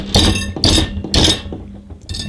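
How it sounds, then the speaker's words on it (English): A ball peen hammer strikes metal bars clamped in a vise, four sharp ringing taps spaced about half a second apart, close and loud, each with a short metallic decay. "I just have a nice little machine hammer, ball peen hammer, that I can use"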